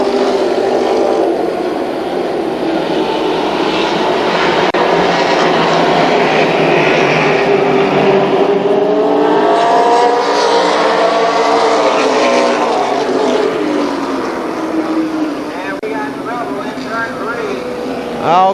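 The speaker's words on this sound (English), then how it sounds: "They'll step on the gas as they come into turn 4." Super late model race cars on the gas coming into turn 4 at Columbus Motor Speedway, a loud sustained multi-car engine roar rising and falling in pitch as they pass, with a commentator talking over it throughout.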